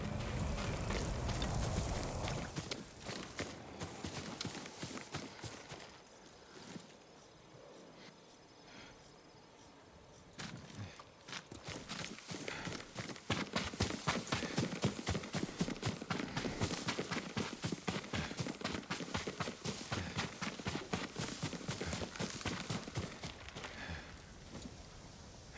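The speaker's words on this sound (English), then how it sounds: "Yuriko's horse." Horse hooves clip-clop on the ground in Ghost of Tsushima, a steady rapid rhythm that fades during a quieter middle stretch and then comes back louder and close, with insects chirring behind it.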